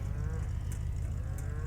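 Beef cattle low and moo steadily and close by near the round hay bales on a ranch at feeding time, a continuous loud deep lowing from the herd.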